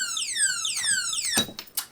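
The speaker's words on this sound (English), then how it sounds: "when you touch it, it sets off an alarm at 110 dBA" An alarmed padlock for motorcycles shrieking at 110 dBA, loud close electronic tones sweeping downward in repeated whooping bursts before cutting off into a few clicks.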